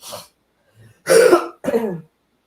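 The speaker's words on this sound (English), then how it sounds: "Apologies for all the nasty coughing" A short cough, then two harsh, close throat clearings in quick succession, with silence between them.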